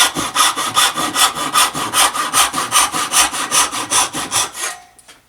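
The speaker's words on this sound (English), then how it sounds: "The next cut is going to be using that second set of lines that I've created and sawing straight down." Hand saw cross-cutting wood to make wedges, using a ripping saw: steady rhythmic back-and-forth rasping strokes, close and loud, about a dozen strokes before stopping abruptly.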